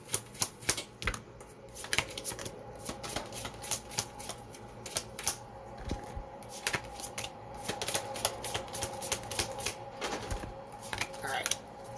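Cards are shuffled for a tarot reading, a long run of crisp riffling and snapping bursts, close and fairly loud, with brief talk faintly underneath.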